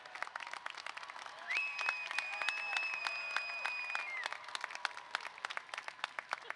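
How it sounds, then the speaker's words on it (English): A commencement audience at a college graduation applauds faculty and staff, a dense crackle of many hands clapping continuously, with a faint sustained tone running through part of it. "Let's give these amazing faculty and our staff a big round of applause."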